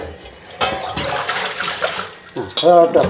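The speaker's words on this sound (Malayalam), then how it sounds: "മാങ്ങായും കഴുകി നല്ലപോലെ മാങ്ങായും കഴുകി" Mangoes being washed by hand in water, with splashing and sloshing throughout and a voice talking over parts of it.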